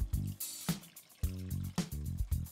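Water pours into a pot of potato stew with bay leaves, coming in short, resonant gurgling bursts with brief pauses between them, close and fairly clear, with no talk.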